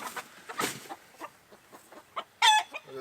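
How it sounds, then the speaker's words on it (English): Backyard chickens cluck in short, irregular bursts nearby, with one louder squawk near the end, close and clear with no talk over them. "She hands feeds the chicken, not me."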